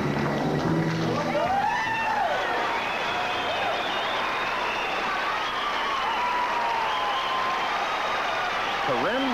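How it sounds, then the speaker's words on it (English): Audience applause and crowd noise fill the hall during a mixed pairs bodybuilding posing routine at the 1982 IFBB event, a steady wash of clapping with a commentator's voice talking over it throughout. "A lot of good reaction from the crowd, too. They appreciate this routine."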